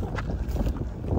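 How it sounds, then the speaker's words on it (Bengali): Strong wind gusts over a boat on Dakatia Bil, a wetland, during rain. The rush is loud and continuous and buffets the microphone, and there is no talk. "বাতাস হচ্ছে প্রচুর"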